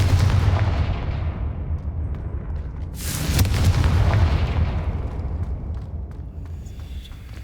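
Confringo blasting spell going off in Hogwarts Legacy: a sustained roaring boom with rumbling low end, a sharp burst near the middle, then fading rumble, loud and close with no talk.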